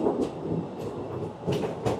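Train running through a narrow tunnel cut between hills near Ljubljana, Slovenia, a steady rumbling roar with periodic clacking bursts heard from onboard.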